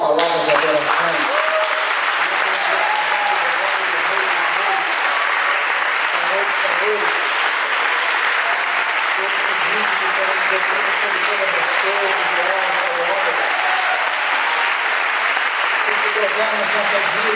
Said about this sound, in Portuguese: Você pode começar a aplaudir o Senhor